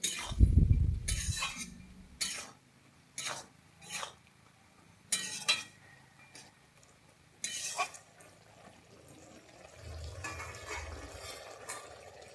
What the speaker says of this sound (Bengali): এটাকে আবারও ভালোভাবে নেড়ে চেড়ে নিচ্ছি